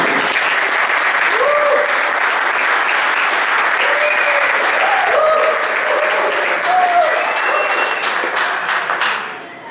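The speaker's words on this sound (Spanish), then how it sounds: "E uma salva de palmas para o Pablo." Sustained, dense audience applause fills the hall for a presenter about to talk on lighting and compositing for the open movie Sintel, loud and steady throughout before tapering off at the very end.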